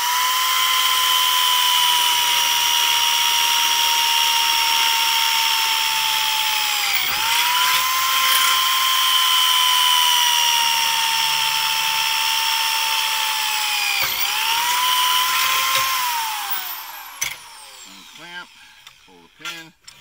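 A power tool drills a hole, a loud, steady high-pitched whine that briefly dips in pitch twice under load before winding down and stopping near the end, with no voices.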